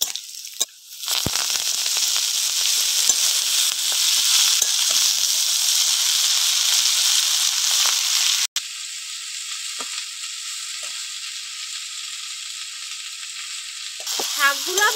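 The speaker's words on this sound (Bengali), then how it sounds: "শাকগুলো ভালো করে নেড়ে চেড়ে ভেজে নেব।" Chopped kharkol leaves hit hot oil with garlic and green chilies, setting off a loud, steady, close sizzle that runs throughout, eases slightly partway, and ends with a few faint clinks.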